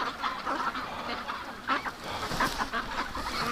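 Many ducks crowded in a large breeder pen give off a dense, continuous chorus of quacks and honks, some calls standing out nearby over a busy backdrop of the flock.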